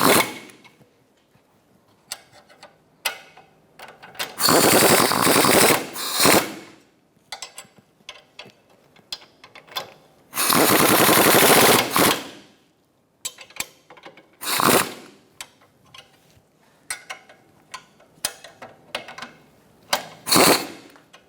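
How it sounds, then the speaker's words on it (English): A 15mm wrench and 16mm socket tighten ball joint bolts on a Buick Encore, with bursts of rapid ratchet clicking and longer spells of dense ratcheting between quiet pauses, close up and alone. "Now that we have our bolts in, we're going to tighten these down."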